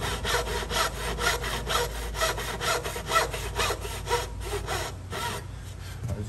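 A hand saw cutting wood for a dovetail joint, a close, regular back-and-forth rasp of about a dozen strokes, each push and pull distinct before the sawing stops.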